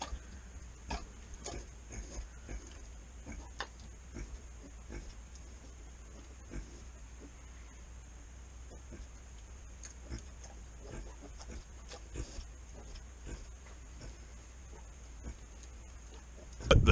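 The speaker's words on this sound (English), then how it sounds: "The sow finally had pigs." A sow with her newborn piglets on a homestead gives off faint, scattered grunts and oinks over a low background hum, soft and intermittent throughout.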